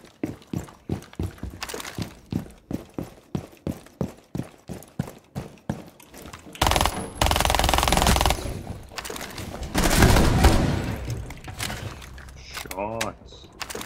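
Rapid bursts of gunfire in a video game, a fast rhythmic string of sharp shots followed by sustained loud automatic fire and blasts, with a voice talking briefly over it.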